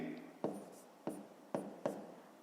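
Pen or pencil writing on paper during a fifth-grade maths exercise, a few short scratchy strokes spaced about half a second apart, close and fairly quiet.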